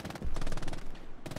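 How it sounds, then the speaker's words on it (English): Rapid gunfire in the video game Hell Let Loose, aimed at the player: dense, loud bursts of machine-gun style shots cracking one after another for the whole moment, with a short lull near the end before the firing resumes. "Who is shooting at me?"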